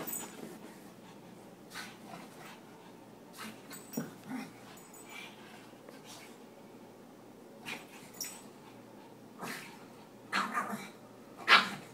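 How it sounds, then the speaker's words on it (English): A playful dog gives short barks and soft whimpers amid its breathing, in scattered bursts that grow louder toward the end, heard close up and fairly quiet. "there's his bark"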